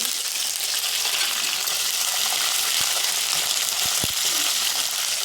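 Curry leaves sizzle in hot oil, tempering for tamarind pulihora. The frying hiss is steady and close, with a few sharp crackles and pops near the end and no talking.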